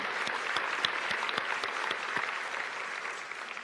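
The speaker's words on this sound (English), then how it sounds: "Let's give them a big round of applause." An audience at a state government address in Queensland claps steadily, with distinct close hand claps over a softer wash of applause that thins slightly toward the end.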